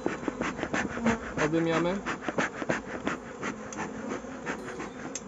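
Honey bees buzz around close by during a honey harvest while someone talks over them, the droning hum rising and falling.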